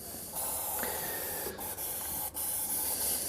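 An airbrush sprays paint in a steady, close hiss that starts abruptly and holds with brief interruptions, fairly loud against a quiet room.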